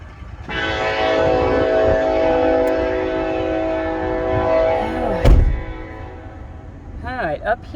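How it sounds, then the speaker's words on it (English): A passing train sounds a long, loud, sustained horn blast close by, followed by a sharp bang and then shorter horn notes as it rumbles past. "Of course, I got a train coming."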